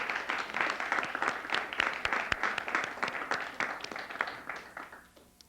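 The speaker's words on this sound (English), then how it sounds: "give me a big round of applause for all the judges that went through all that" Audience applause for the judges at the 2005 PEGASYS Awards, a dense, steady clapping from a hall crowd that holds for several seconds before thinning and fading out.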